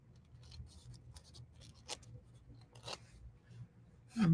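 Scissors snip around a star shape on a paper napkin, giving soft, close, intermittent crisp cuts and rustles of paper with no talking, ending in a louder handling noise.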